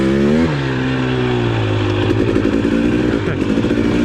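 A 2021 Husqvarna TX300i dirt bike engine roars loud and close, its pitch dipping and climbing as the throttle is worked. It is a continuous, rough mechanical drone with no speech.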